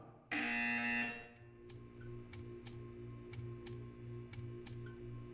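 A loud, harsh buzzer in Portal 2 blares for about a second, then a quiet hum remains with soft, evenly spaced ticks.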